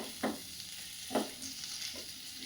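Green chillies frying in ghee give a steady low hiss, broken by three short scraping stirs at roughly even intervals, close by and moderately loud, with no voices.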